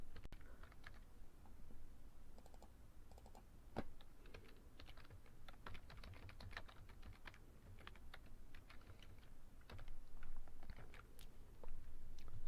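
Code is typed on a computer keyboard in a Google Apps Script session, producing rapid, irregular key clicks in bursts with brief pauses, close and fairly quiet over a faint background hum.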